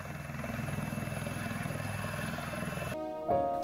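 A helicopter on a flood rescue mission in Ashti, Beed, gives off a steady, rapid rotor chop that pulses on and on at moderate distance before the sound cuts out.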